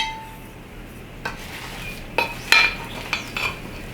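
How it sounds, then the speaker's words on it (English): Sourdough starter scooped out with a utensil and dropped into a pan for banana bread: light scraping and a few clinking metal knocks, close by, spaced unevenly. "I just scoop out a bunch of starter and throw it in my pan"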